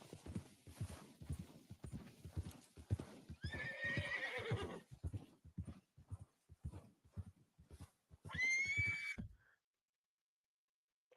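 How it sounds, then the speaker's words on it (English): A video game horse neighs loudly twice, with a long whinny near the middle and another near the end, over a steady clip-clop of hooves before the sound cuts to silence. "Horse, do you mind shutting up a little bit?"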